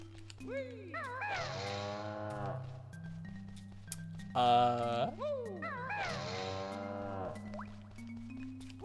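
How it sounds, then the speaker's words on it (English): Long, low electronic moos of a cow in Banjo-Kazooie sound repeatedly over a steady droning background tone, each call bending and wavering in pitch like a game sound effect. "Is there supposed to be mooing?"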